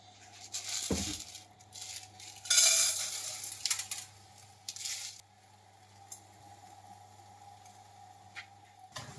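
Dry horse gram clatters into a hot pan for dry-roasting, followed by a few bursts of rattling and scraping as it is stirred, then quieter crackling.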